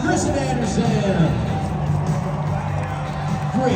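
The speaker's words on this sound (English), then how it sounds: "We'll give her a big round of applause" A Monster Jam arena crowd cheering and clapping at a 2024 Greensboro, North Carolina show, a broad steady roar with a voice over the PA audible through it.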